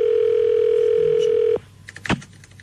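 A steady telephone dial tone holds for about a second and a half while a call is placed, then cuts off, followed by faint clicks and a brief electronic beep.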